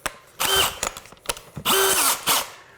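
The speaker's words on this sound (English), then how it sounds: "This is another way to drill a hole." A power drill boring a hole in subfloor, with loud whirring bursts that start and stop several times, separated by short clicks and knocks.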